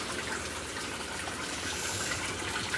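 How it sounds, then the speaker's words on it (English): Water gushes from a hose as an old washing machine, unused for months, fills up, a loud, steady rushing flow that runs unbroken from start to finish without any voices. "Water's coming straight out of here, going straight out of the hose"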